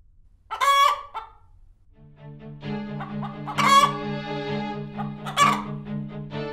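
A chicken lets out loud, close clucks and crowing calls in three sharp bursts over a sustained, droning cackle, with no one speaking.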